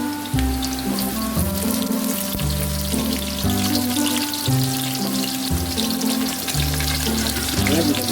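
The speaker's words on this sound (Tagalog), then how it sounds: "Ilagay na rin natin yung ating sibuyas." Onion fries with garlic in a pan, a loud continuous sizzle and crackle close up, layered over a steady low hum from start to finish.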